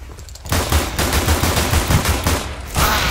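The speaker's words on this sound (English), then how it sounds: "he just shot me like quick, like with a sniper gun" Sniper rifle fire in the video game CS:GO comes as loud, close, dense bursts of shots that carry on steadily through the whole stretch, with no voices.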